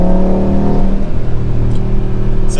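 A 2024 Audi RS3 in performance mode holds high revs in third gear off the throttle, giving a loud, steady close-up engine drone with a low rumble that carries throughout and has no talk over it.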